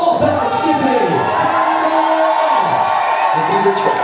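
Audience at a school graduation ball cheering and whooping loudly in a large hall, a dense, continuous crowd roar with a voice speaking over it.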